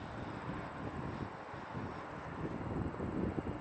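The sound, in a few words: RC glider Hobbyking Sunbird motor powering up in flight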